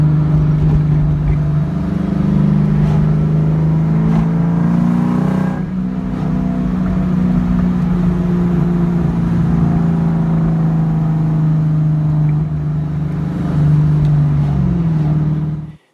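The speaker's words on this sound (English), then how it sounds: "just really enjoyed driving the car around on a beautiful morning" Engine of a Kenne Bell supercharged Ford Mustang Mach 1 cruising on a morning drive, a loud steady drone with shifting pitch that holds throughout before cutting off at the end.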